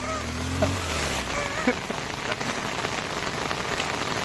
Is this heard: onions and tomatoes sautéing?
no